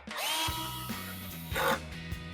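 A cordless drill whirs briefly, stops, then spins again as a 10mm bolt is driven in to secure the grille on a 2019-2021 Chevrolet Silverado 1500, close and fairly quiet.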